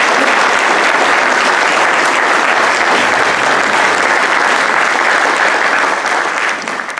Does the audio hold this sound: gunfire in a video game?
no